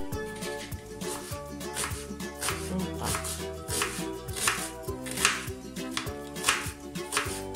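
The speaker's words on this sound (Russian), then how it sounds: "Лук я буду нарезать полукольцами, а морковь натру на крупной терке." A knife slices an onion into half rings on a cutting board, producing quick, evenly spaced chopping taps that carry on steadily throughout, with faint background sound underneath.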